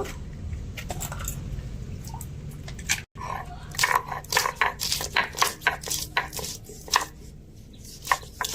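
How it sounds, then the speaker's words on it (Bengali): Ginger being ground into a paste for a spicy live lote fish curry, heard as a steady run of close, uneven crunching and scraping strokes with a brief break partway through, no talking. "আর আদা একসাথে বেটে নেব"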